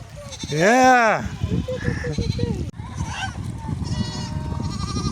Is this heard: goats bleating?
yes